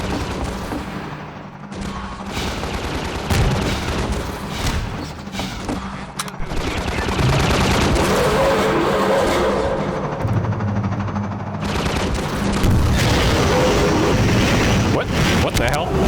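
Rocket fire and explosions in Half-Life 2, a dense barrage of booms and blasts that builds to a continuous loud roar of combat.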